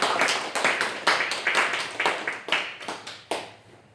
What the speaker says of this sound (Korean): 우리에게 승리를 주신 하나님께 영광의 박수를 올려드리겠습니다.